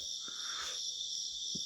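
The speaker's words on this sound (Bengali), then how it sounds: "খালি পোকার আওয়াজ, ঝিঝি পোকা।" Crickets chirping at night on a cool evening in the hills near Kalimpong, a steady high insect drone holding throughout, with a couple of faint low knocks nearby and no voices.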